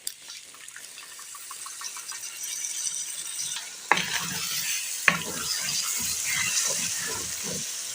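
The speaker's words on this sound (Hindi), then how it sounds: "अब जो हमने अपना पेस्ट बनाया है वो इसमें डाल देते हैं।" Spice paste goes into desi chicken karahi frying in a pan, with a steady sizzle building under two sharp clunks from the pan and utensil, followed by continuous stirring and scraping amid the frying.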